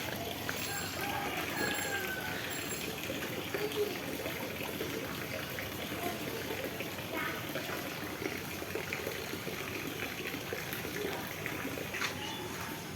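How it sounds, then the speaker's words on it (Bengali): Rainwater from surrounding houses running off past a raised house during prolonged rain, a steady trickling and gushing flow heard up close and continuing without pause. "এই আশেপাশের সমস্ত বাড়ির পানি এই যে যাচ্ছে"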